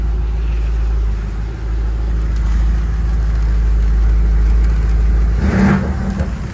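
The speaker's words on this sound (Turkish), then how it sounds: "Şöyle ufaktan bir gaz verelim mi? Çok hafif." BMW 750Li with a 4.4-litre V8 of 450 hp, heard up close as a deep steady idle rumble, then a single short, light blip of the throttle near the end before settling back.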